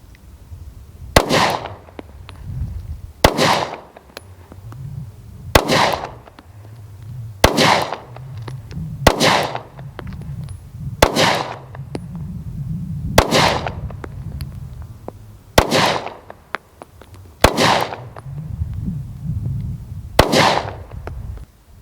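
Ten evenly spaced shots from a Hellcat 9mm pistol firing Fiocchi rounds, each a loud sharp crack about two seconds apart, ringing out in an open outdoor setting.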